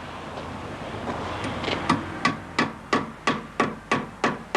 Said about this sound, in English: special stainless steel wall ties, which are driven home with a hammer